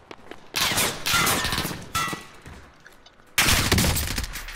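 Gunfire bursts out in a video game firefight, three loud rattling volleys close up, separated by brief lulls, with no talk over them.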